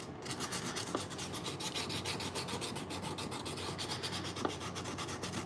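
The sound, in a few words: hand sanding a Penn 8500ss spinning reel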